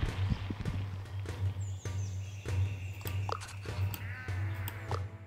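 Sheep in the video game Renowned Explorers bleat a few times over light clopping footsteps and a low looping game hum, fairly quiet and close.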